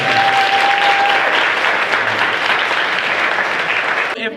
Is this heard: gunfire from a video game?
no